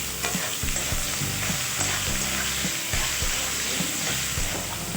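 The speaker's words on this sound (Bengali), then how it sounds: "পেঁয়াজ কুচিটা আমি খুব সুন্দর লাল লাল করে ভেজে নেব" Chopped onions and bay leaf fry loudly in hot oil, a constant crackling sizzle under a steady rhythm of spoon strokes scraping and knocking the pan.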